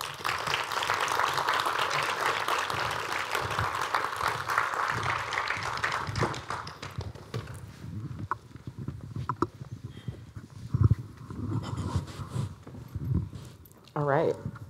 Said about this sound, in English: Please give this incredible group of artists a round of applause as they join me on stage